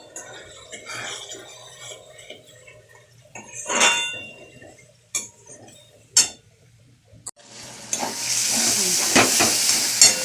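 Spices with green chilli and garlic paste fry in a pan for a Bengali chicken curry, stirred with scraping utensil clinks over a soft sizzle that swells into a loud, steady hiss toward the end.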